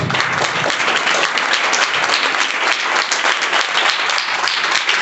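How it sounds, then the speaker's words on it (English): Sustained applause from a classroom audience, dense and steady throughout, loud and close with no pauses or speech. "Let us get started in this parliament with your clapping"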